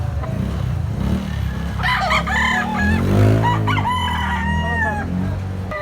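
A rooster crows loudly at a poultry market in Carbon, Cebu, over a busy background of other birds and clucking chickens, the crow rising and falling in one long call.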